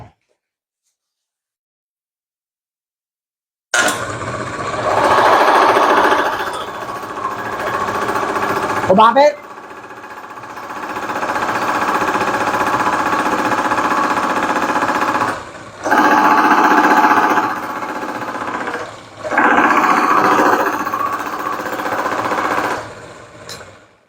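A small engine runs with water mixed into JET1 Extreme oil, giving a loud, harsh, rattling mechanical drone. It revs up and down in bursts with brief dips between them, and a voice speaks briefly.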